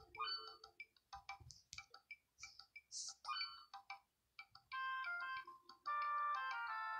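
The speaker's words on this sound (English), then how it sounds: "I like the pumping noise, it's pretty interesting." Pumping in the video game Helium Boy comes through as a run of short electronic bleeps and ticks in an uneven rhythm, ending in longer sustained synthetic tones, with no speech.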